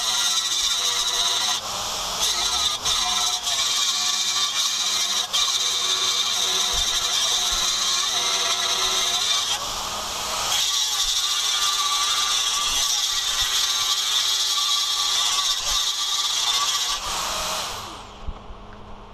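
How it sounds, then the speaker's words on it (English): An angle grinder flattening welds on a steel welder trolley base, a steady loud high-pitched whine with grinding rasp that runs continuously for most of the clip before winding down at the end. "I need to grind flat the welds where the plates will sit"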